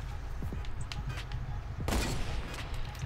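Gunfire in Fortnite: several sharp shots and bursts crack through a busy game mix, one especially loud report near the middle, with no voices.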